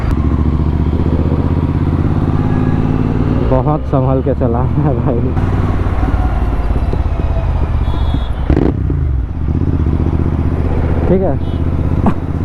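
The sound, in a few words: Royal Enfield GT650 motorcycle engine sound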